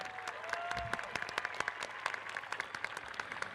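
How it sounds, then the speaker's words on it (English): An audience applauds at a 2025 high school graduation ceremony, producing a steady, sustained patter of clapping. A few sharper claps stand out from the crowd, heard at a moderate distance in a large space. "May we share in a round of applause for all the special contributors for this event"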